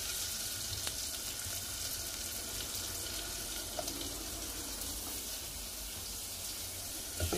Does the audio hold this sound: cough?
no